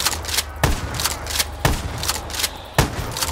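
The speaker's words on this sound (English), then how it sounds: "It's like a Tommy gun, but smaller." A compact Tommy-style submachine gun fires in Call of Duty: Black Ops III, loud close bursts with sharp reports and echoing tails, spaced roughly a second apart, with no voices.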